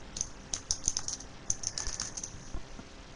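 Fingers type on a computer keyboard in short clustered bursts of light, crisp key clicks, fairly quiet and close.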